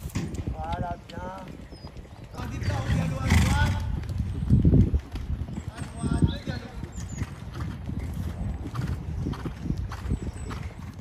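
Horse cantering in a riding lesson, rhythmic clip-clop of hooves on an arena surface close by, with an instructor's voice and other talk over it throughout.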